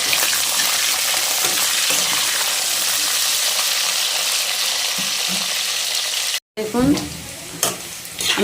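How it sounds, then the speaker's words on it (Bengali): Cauliflower pieces sizzle loudly in hot oil in a pan, a dense steady fry with stirring scrapes, briefly cut off and then returning with clattering stirs and a watery bubbling. "এবার ফুলকপিটা দিয়ে দেবো ফুলকপিটা হালকা একটু ভেজে নেব"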